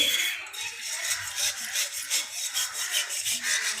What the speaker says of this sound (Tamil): இந்த சாம்பல் இருக்குது பாருங்கள் இதை வச்சு இப்படி நல்லா ஒரு தேய் தேய்ச்சி